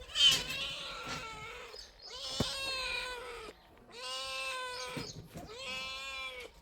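A domestic cat meows four times in a row, each call long, drawn-out and insistent, close by and loud, with short gaps between calls and no talking.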